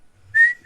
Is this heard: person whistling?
yes